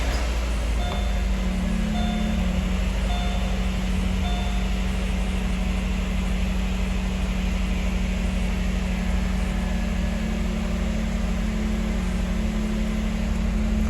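A Chevrolet Malibu Maxx engine idles steadily while the car sits up on jack stands, a constant low hum with a faint whine running unbroken throughout and no voices.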